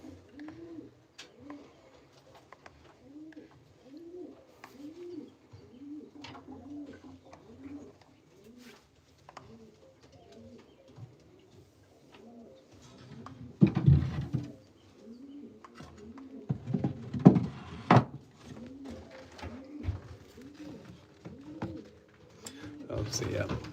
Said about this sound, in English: These are racing pigeons, but the babies.